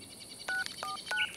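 In a cartoon, a telephone is dialed with three short, clean beeping tones in quick succession over a soft background hum.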